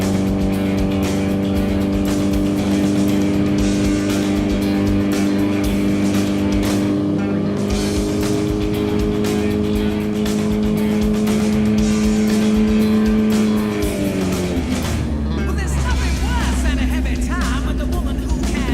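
A motorcycle engine runs on a dyno at a steady high hum around 3,000 RPM, loud and unbroken, then its pitch shifts and drops near the end; no speech over it.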